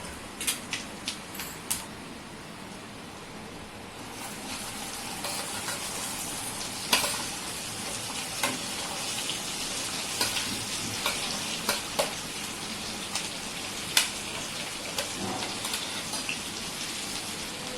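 Okra stir-frying in a pan with cumin and turmeric, giving a steady close sizzle with scattered crackling pops and spatters, with no talking.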